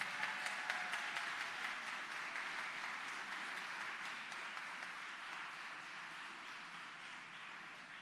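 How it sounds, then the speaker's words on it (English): An audience at a Governor General's Medal of Honour presentation ceremony gives sustained applause, dense and steady, heard from a distance at low level and slowly fading toward the end. "may I invite you to give all the recipients a rousing round of applause"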